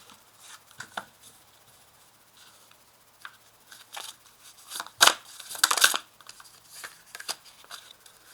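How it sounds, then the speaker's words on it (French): Playing cards riffled and spilling during a shuffle, soft scattered flutters building to two louder bursts of slapping cards midway, fairly close and alone. "Je voulais prendre les cartes qui tombent, mais là, il y en a tellement."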